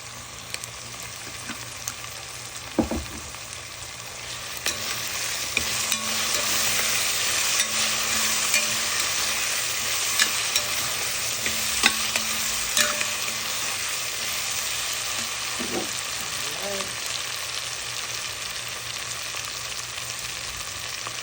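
Marshall's sardines fry with dry oregano and jeera in a pan, a steady crackling sizzle that swells after a few seconds and runs on, with occasional clinks of a utensil against the pan.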